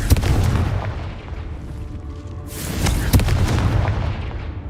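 Confringo fire spell blasts in the Hogwarts Legacy video game, heavy booming bursts with a low rumble, one near the start and another around the third second, loud and close with no talk.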